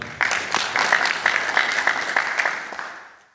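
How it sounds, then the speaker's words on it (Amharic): A crowd claps steadily for a few seconds, the applause fairly close and even before tapering off at the end. "አጨብጭቡላቸው።"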